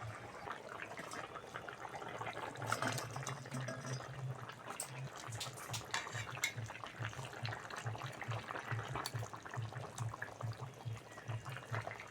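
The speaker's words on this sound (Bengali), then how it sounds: "ঝোল ভালোভাবে ফুটে গেছে ভেজে রাখা মাছগুলো দিয়ে দেবো" Fish curry gravy bubbling at a boil in a pan as fried fish pieces go in, a faint continuous watery bubbling with small splashes and soft clinks throughout.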